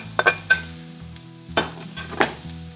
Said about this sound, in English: we're going to add the chopped mushrooms